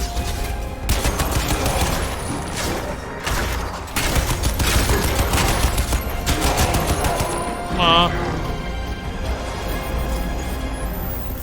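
Rapid machine gun fire in the video game Crysis 2, loud sustained bursts with crashes and booms of combat, a voice speaking intermittently over the shooting.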